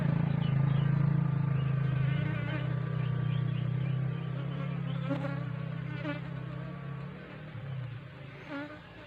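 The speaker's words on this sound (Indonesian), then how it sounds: "untuk lebah kita juga mulai makan lagi nih" Honeybees swarm and feed on drops of honey at their hive, their close, dense buzzing humming steadily throughout with small rising whines as individual bees fly near.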